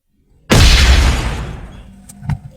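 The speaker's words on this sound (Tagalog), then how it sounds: "Pag tap nyo sa laban, o marami ng klase-klaseng laban na sound effect na dyan." A fight sound effect from the CapCut sound library: a single loud, sudden booming impact that rumbles and fades over about a second, followed by a couple of faint clicks.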